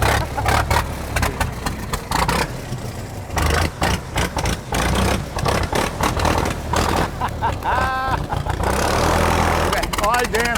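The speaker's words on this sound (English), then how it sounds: "early board track race cars popping their way onto the show field" Early board track race car engine starting and popping through a push start, loud rough bursts and uneven firing with a clutch pop, voices talking over it outdoors on a show field.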